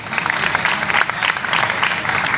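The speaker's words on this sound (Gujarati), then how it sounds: "એમને એક વખત જોરદાર તાળીઓથી વધાવો" Audience applause at a gathering, dense rapid clapping from many hands filling the space evenly, moderately loud and sustained throughout.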